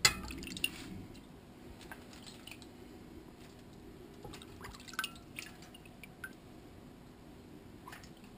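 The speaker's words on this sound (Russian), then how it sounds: "Затем все заливаем бульоном" Broth is poured over meat for aspic in a Russian home kitchen, heard as faint, scattered drips and small splashes with soft liquid trickling in a quiet room.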